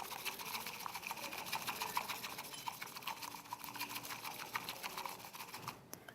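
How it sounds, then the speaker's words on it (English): A bamboo whisk beats matcha tea powder into a frothy liquid with quick, rhythmic scraping strokes, close and fairly quiet, steady throughout. "You use the whisk, which is made out of bamboo."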